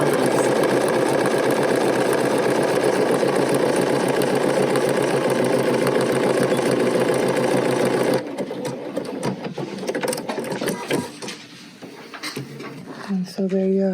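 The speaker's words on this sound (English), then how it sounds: "This machine stitches nicely." A BERNINA sewing machine stitches in a steady, loud mechanical whir for about eight seconds, then stops, leaving quieter handling noises and scattered clicks.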